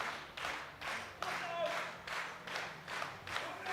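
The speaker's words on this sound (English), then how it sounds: "The balcony opposite us is full of German supporters, and they are all clapping and shouting" German supporters packed on a balcony at a European junior powerlifting championship clap and shout in rhythmic surges, a dense crowd roar rising and falling steadily across the hall.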